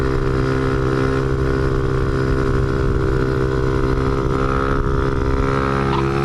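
A motorcycle engine drones steadily and loudly at about 50 mph as the rider pulls a wheelie on an Easter Sunday ride, the front fender shaking, with a constant harmonic roar and wind rush throughout and no pauses.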